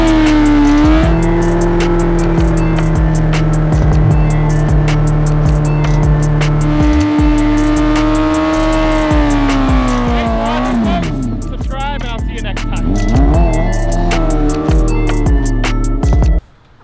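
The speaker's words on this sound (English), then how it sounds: "So Aaron's gonna do a big fat Bernie in his S1000." A BMW S1000 does a burnout, with a loud, sustained engine roar, revving up and down, and tire squeal dominating from start to end, close up, before cutting off abruptly.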